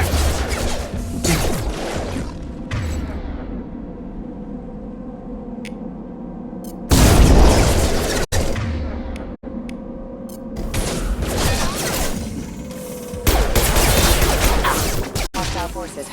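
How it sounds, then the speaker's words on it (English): Heavy gunfire in a Mass Effect 2 firefight on Freedom's Progress, sustained bursts with crashing impacts and loud swells, broken by brief pauses and sharp cracks. "Taking heavy fire!"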